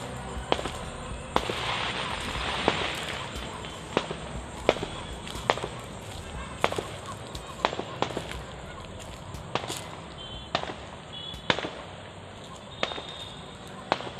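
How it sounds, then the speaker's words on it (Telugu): Firecrackers go off at night in sharp, scattered bangs, about a dozen irregular cracks over a low background murmur, some near and loud, others fainter. "ఆ టపాకాయలు అయితే కాలుస్తున్నారు దానికోసానికే"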